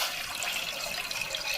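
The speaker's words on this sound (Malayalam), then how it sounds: "അതിലേക്ക് ആവശ്യത്തിനുള്ള വെള്ളം ഒഴിച്ചു കൊടുക്കുകയാണ്" Water pours steadily into a cooking pot set on a stove while a soybean curry is being made, a brief continuous hiss and splash heard close up with no talk.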